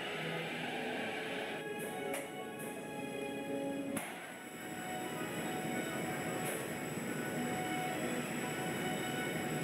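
Roller coaster train running on the Tornado II at Prower Airfield in NoLimits 2, a steady rolling rumble with squealing metallic wheel tones and a few sharp clacks, continuous and moderately distant.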